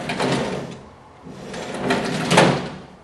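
A door swinging shut in two broad, rasping swells, the second louder with a scraping peak near its end, heard close with no voices.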